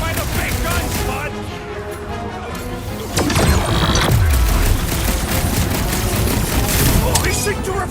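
Rapid gunfire rattles in dense bursts during a Guardians of the Galaxy video game fight, joined by a heavy boom and crash midway, mixed with game music and character voices talking over it.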